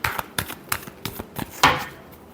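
Tarot cards are shuffled by hand in a quick series of crisp riffling flicks, close and clear, ending with one louder snap, with no talk.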